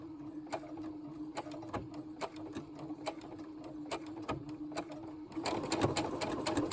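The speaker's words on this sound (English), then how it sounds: "I'm going to sew down the side" A domestic sewing machine stitching a seam down the side of a hoodie cuff, with a steady rapid mechanical chatter of needle strokes and periodic clunks, close up, getting busier and louder near the end.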